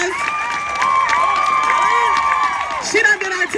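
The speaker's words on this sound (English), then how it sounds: "Y'all, let's give Jamia another round of applause." A Black Lives Matter protest crowd applauds and cheers for Jamia outdoors, with clapping under loud whoops and sustained shouting voices, some high-pitched, rising and falling through the clip.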